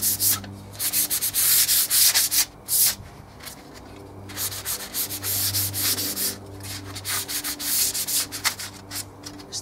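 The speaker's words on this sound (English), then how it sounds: "so I'm going to sand it with a 120 sponge pad" Light hand sanding of dried primer with a 120 grit sponge pad before a metallic chrome spray finish, a steady rasping scrub in repeated strokes, close and loud, with a low hum underneath.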